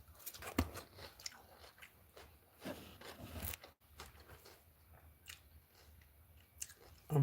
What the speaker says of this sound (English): I'm crunching.